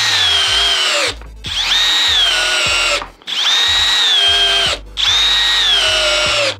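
A Milwaukee M12 Gen 3 Fuel hammer drill in drill mode at speed 2, on a fully charged 6.0 battery, whirs loudly and close up in four sustained bursts with short pauses between them.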